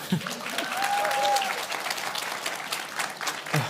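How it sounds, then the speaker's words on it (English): A panel-event audience at an Arctic youth side event gives a round of applause, a steady wash of clapping at moderate volume, with a brief voice near the start and end. "So do it by a round of applause if you do."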